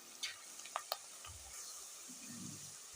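Tomatoes go into a pan of frying onions for chicken masala, giving a quiet, close sizzle with a few sharp clinks of a spoon and soft stirring scrapes; no one speaks.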